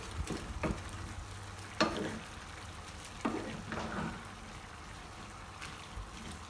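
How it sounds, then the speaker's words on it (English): Onions frying in a pan are stirred with a utensil, making a low steady sizzle broken by several sharp scraping strokes at uneven intervals, fairly close. "Time to add the onions. And give it a good stir."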